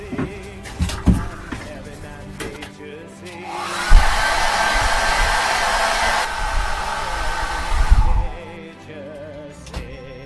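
A hair dryer blasts in a steady whoosh for about four seconds while drying acrylic paint on a canvas, close and loud, framed by knocks and handling sounds, with brief speech before it.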